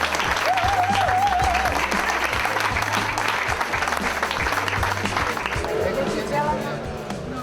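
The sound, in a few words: people applauding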